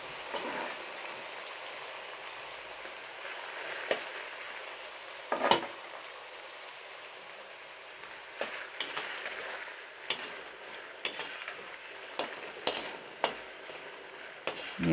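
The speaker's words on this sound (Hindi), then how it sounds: "ये हमने घी गरम हो गया, अब हम इसमें गाजरें ऐड करेंगे" Carrots hitting hot ghee for gajar halwa, a soft continuous sizzle in a pan with sharp crackles and stirring clicks bursting out irregularly, fairly quiet and with no talking.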